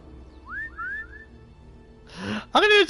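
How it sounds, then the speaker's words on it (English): A person whistles a few short rising notes, fairly soft, before louder breathy vocal sounds break in near the end. "there's a reason why I'm whistling"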